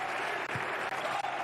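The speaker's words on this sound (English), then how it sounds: "The crowd showing their appreciation." Basketball crowd at a EuroLeague Women game applauding with sustained, dense clapping throughout, fairly distant in a large arena.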